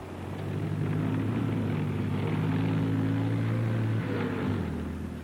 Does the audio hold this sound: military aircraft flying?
yes